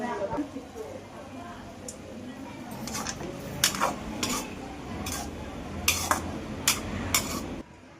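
Beetroot halwa with milk gets stirred in a pan, a spoon scraping and clinking against the metal in irregular taps over a soft sizzle, with a person talking throughout.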